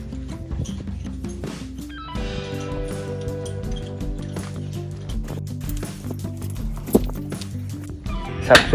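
A mare being ridden outdoors after rain clops along in hoof beats at an irregular pace, with a sustained tonal hum underneath and a few sharper knocks near the end.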